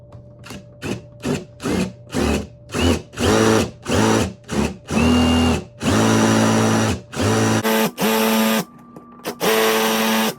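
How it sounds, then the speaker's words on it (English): A power drill bores holes in a coconut shell for a homemade electric kalimba, stepping up bit sizes: loud, close whining bursts in quick succession, stretching into longer sustained runs toward the end, with no voices. "it's not easy to drill these holes"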